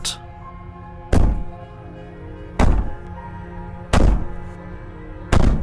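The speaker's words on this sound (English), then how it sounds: "Maybe the banging and wailing will stop if you just don't pay attention to it." Heavy, booming thuds on a cabin door in the video game Slay the Princess, four evenly spaced blows that each ring out briefly before the next, loud and close against a low hum.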